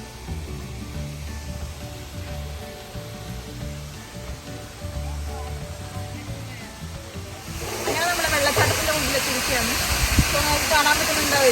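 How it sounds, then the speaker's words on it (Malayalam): A small man-made waterfall in a park at Khorfakkan, UAE, makes a steady rushing of falling water that swells sharply louder partway through and then holds as a dense, continuous roar. "ഇതൊരു മാൻമെയ്ഡ് വാട്ടർഫോൾ ആണ്"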